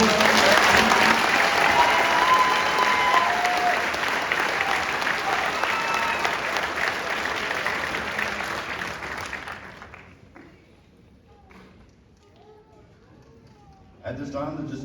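Sustained applause from a graduation ceremony audience fills the room loudly for about ten seconds, then fades to near quiet before a brief swell of noise returns.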